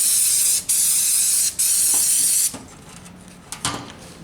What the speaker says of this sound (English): Got carburettor rebuild spray in the eye.